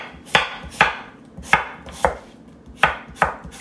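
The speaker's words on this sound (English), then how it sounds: "And there's a sliced apple." Knife slicing through a crisp Pink Lady apple on a cutting board, with seven crunchy cuts at a steady, slightly uneven pace, close and clear with no voices.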